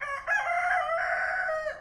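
A single loud, close rooster crow rings out at daybreak on a Pacific island full of chickens, one long continuous call with a faint hum underneath.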